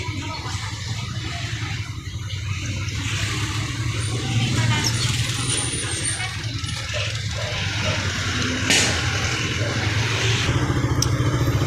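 A Honda Raider 150 motorcycle, being checked for hard starting, runs with a steady low engine hum at close range, punctuated by a few sharp clicks and clanks.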